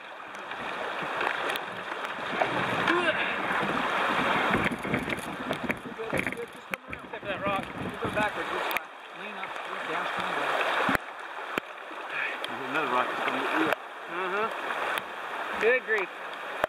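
Kayak riding rushing water on the French Broad River, a loud continuous roar of the current with wind buffeting the microphone and occasional knocks against the boat.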